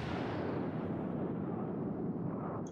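A naval gun salvo from the Amagi battleship in World of Warships booms into a heavy, sustained rumble that fills the whole moment, loud and close, fading slightly at the end.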